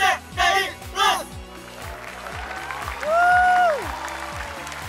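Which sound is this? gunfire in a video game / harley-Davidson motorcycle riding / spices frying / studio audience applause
studio audience applause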